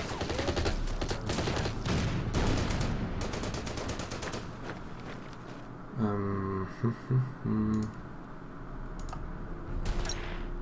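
Artillery and gunfire in the war strategy game Order of Battle, rapid volleys of shots crackling through the first half, then a few heavier bursts and clicks, with a voice talking faintly underneath.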